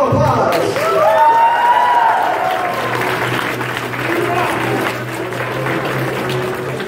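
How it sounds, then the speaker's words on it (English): Audience applause at a live Pokémon battle show, a sustained wash of clapping from a crowd that swells early and then holds steady for several seconds, with a voice sounding faintly over it. "Ladies and gentlemen, big round of applause."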